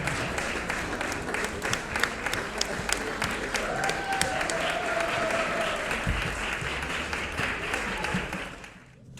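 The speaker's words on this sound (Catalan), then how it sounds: "un aplaudiment" Audience applause at an awards ceremony, a sustained mass of clapping from a crowd with a few louder individual claps and faint voices, tapering off near the end.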